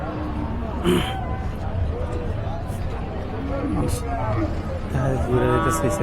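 Cattle low at a busy village cattle market. Several moos rise over constant crowd babble and nearby talk.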